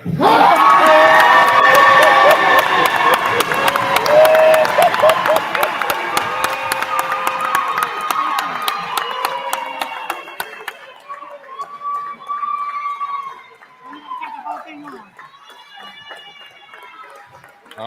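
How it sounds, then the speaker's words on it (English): A crowd at a high school basketball commitment announcement for the University of Alabama bursts into loud cheering, whoops and clapping, with children shouting. The noise is strongest at first, then thins into scattered shouts and voices. "That was some Bama energy in that round of applause we heard."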